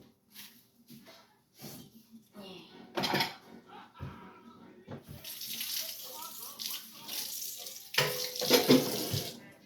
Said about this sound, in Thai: เก็บถ้วยจานไว้ทำความสะอาดก่อน